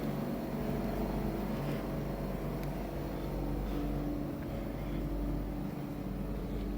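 Pool pumps at a budget family hotel run with a steady, low mechanical hum and drone, constant and unbroken, with faint outdoor background at early morning.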